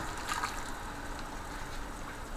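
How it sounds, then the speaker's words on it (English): Water pours into a pan of shrimp-stuffed bitter melon (karela) with a quiet, continuous trickle and faint splashes. The sound is soft and steady throughout, and nobody speaks. "so I'm going to put some water in"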